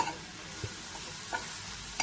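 Greens with coriander powder and turmeric powder fry in a pan for green masala chicken biryani, giving a soft, steady sizzle and low hiss with a few faint stirring scrapes and clinks, quiet and without talk.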